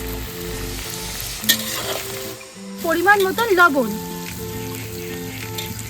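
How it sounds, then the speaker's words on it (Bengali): Chopped onion tossed into hot oil with already-fried ginger and garlic for Schezwan fried rice, crackling and sizzling steadily with a stirring scrape midway, while someone speaks briefly over the cooking. "আদা আর রসুন খুব ভালো করে ভাজা হয়ে গেছে, এবার কুচিয়ে রাখা পেঁয়াজটা দিয়ে দিচ্ছি"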